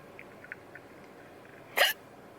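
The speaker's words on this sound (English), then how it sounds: "And now I have hiccups." A single sharp hiccup from an adult, close and fairly loud against a quiet room, preceded by a few faint small noises.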